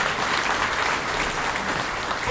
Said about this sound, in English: but let's still give Sean a big round of applause.